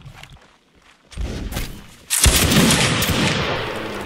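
Musket fire crackles in Napoleonic Wars as a line battle volley goes off, a few scattered shots at first, then a sharp loud burst of many muskets at once that rolls on into a sustained rumble.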